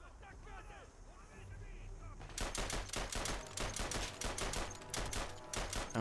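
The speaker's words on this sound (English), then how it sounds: "trying to shoulder fire a 8x50 light machine gun is not doing me any favors here" Shouldered 8x50 light machine gun firing in the Isonzo video game, a loud rapid burst of repeated shots that starts abruptly after a quieter opening and continues steadily to the end.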